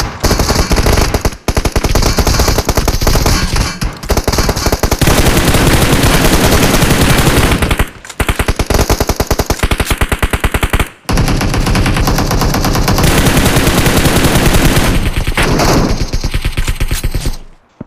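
Loud, sustained automatic gunfire in the video game PUBG Mobile, rapid bursts of shots rattling almost continuously, with brief gaps between volleys.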